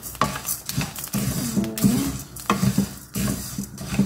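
Rice and corn kernels roasting dry in a pan, stirred with a ladle that scrapes and clinks against the metal, with a steady crackling sizzle and bursts of scraping throughout.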